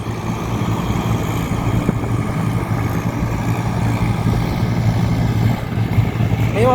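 A New Holland 4710 tractor pulls away during a field race against a Swaraj 744 and a John Deere 5045D, its engine giving a steady, loud diesel rumble with outdoor wind noise and no clear talk.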